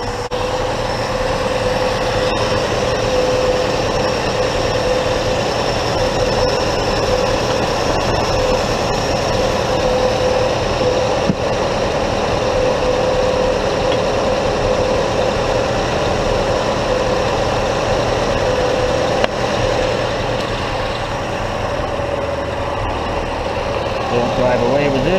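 A Chevy II idles rich while puffing black smoke, a loud, steady engine drone with a constant low hum that carries evenly through the whole stretch.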